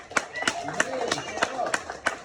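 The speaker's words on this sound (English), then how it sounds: "let's give one more round of applause for everybody" A house meeting group gives a round of applause, a scattered handful of claps ringing out in an uneven rhythm, fairly faint, with voices talking over them.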